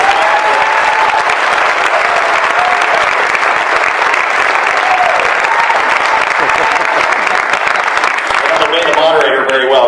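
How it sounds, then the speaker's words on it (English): An audience at a Common Core talk in Ohio breaks into sustained, dense applause that stays loud and even throughout, with a voice rising over the clapping near the end. "I want you to give a round of applause to Taya Shoemake and Heidi Huber"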